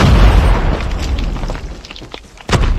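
A UAV is shot down and explodes in Call of Duty, a loud deep boom at the start decaying into rumble, followed by a sharp second burst near the end.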